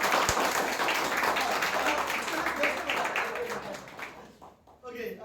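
A church congregation applauds its worship music team: dense, sustained clapping from many hands that fills the room steadily, then thins and fades out near the end.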